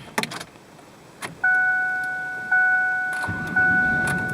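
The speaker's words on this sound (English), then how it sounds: "Starts up like a brand new car." A car engine starts after a battery replacement: a few clicks, then repeated electronic dashboard chimes, then the engine turns over into a low, steady running rumble.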